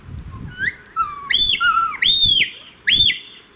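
A shepherd gives sharp, rising-and-falling whistle blasts to a sheepdog working sheep in Ireland, four or five short calls in quick succession, loud and clear against faint outdoor background.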